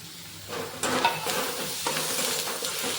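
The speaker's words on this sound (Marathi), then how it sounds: "अद्रक लसूण पेस्ट आपण परतून घेऊ" Ginger garlic paste sautéing with browned onion in a pan for a ridged gourd dish, a steady close sizzle with scraping stirs and a few clinks of the utensil.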